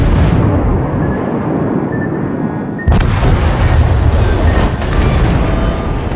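Naval gunfire and explosions in World of Warships during a ranked battle with the Iron Duke battleship: a steady roar of distant shelling, then a loud heavy salvo boom followed by continuing rumbling blasts.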